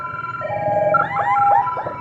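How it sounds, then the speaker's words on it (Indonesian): An ambulance siren wails and warbles nearby, its pitch sweeping up and down in quick cycles, loud and clear over low road rumble. "Oh ambulan."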